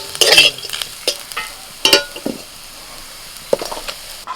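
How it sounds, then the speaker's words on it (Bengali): Bitter gourd and potatoes being stir-fried together in a pan, with a few bursts of scraping and clinking from stirring over a faint sizzle, separated by quieter pauses. "এবার এই করলা ভাজাটা আলুর সাথে মিশিয়ে দিচ্ছি"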